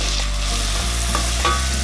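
Vermicelli broken into pieces fry in a pan for sheer khurma, a steady close sizzle running throughout with a few brief stirring clinks, no voices.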